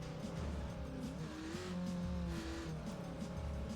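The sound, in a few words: ATV engine driving offroad, video game ATV Offroad Fury 4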